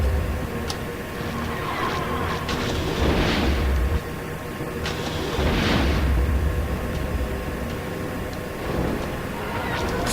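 Bombs from a Y-Wing bombing run explode in Star Wars Rogue Squadron, a few deep rumbling blasts spaced seconds apart over steady engine drone and game noise, with a voice talking between them.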